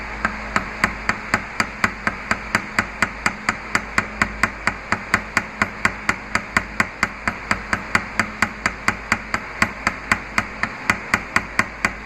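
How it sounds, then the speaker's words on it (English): Ball peen hammer tapping a pin on a knife handle in a steady, even rhythm of sharp metallic taps, roughly four per second, close and clear for the whole stretch with no talking. "I'm going to use the ball peen of the hammer, the ball part, and I'm just going to tap it"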